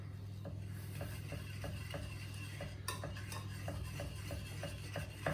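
Crumble topping for blueberry pie bars is stirred in a bowl, with a rhythmic series of soft scraping strokes and light utensil knocks about twice a second over low background hum, quiet and close, with no talking.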